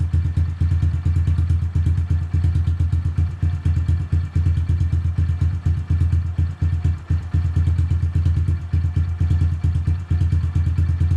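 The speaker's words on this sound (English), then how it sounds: "So given that's started the bike a couple times, you can tell it barely does it anymore." A cold Honda CRF110 motorcycle on brand-new cold oil runs roughly after a hard start, its low engine drone steady and close with faint clattering pulses throughout and no voices.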